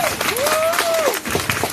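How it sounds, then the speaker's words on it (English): An outdoor crowd in front of a governor's mansion applauds a state representative, loud, close clapping and cheering throughout with a whistle sliding across the middle. "Give him a round of applause."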